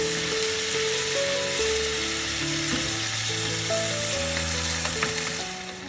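Oyster mushrooms stir-fried in a pan with soy sauce and oyster sauce, giving a steady, close sizzle with scattered clinks of a utensil stirring throughout, and no voices.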